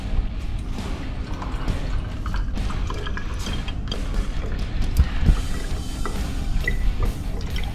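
Water pours and splashes into a container with some dripping and clinking, a steady trickling rush that swells briefly near the end.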